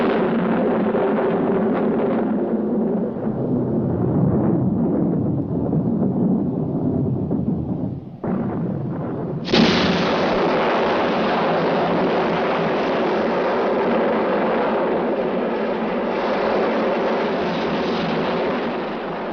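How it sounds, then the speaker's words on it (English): Deep, rumbling blasts roll and boom continuously, loud and heavy, with a sharp cut and renewed roar midway, like distant mining explosions echoing. "the shrill of the exchange is drowned out by the blasts of the miners' explosions"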